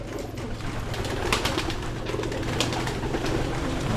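Pigeons coo close by, their soft, throaty calls repeating over a low background hum with no voices.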